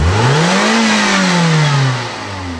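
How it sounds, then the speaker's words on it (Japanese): A car engine revs up close and loud, its pitch rising then easing back toward idle over a couple of seconds. "じゃあエンジン止めます、うるさいんで。"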